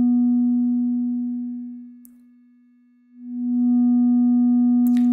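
Synthesizer sine tone through a VCA crossfader, a steady loud pure hum that fades down smoothly to near silence and then swells back to full level, with a brief key click at the end.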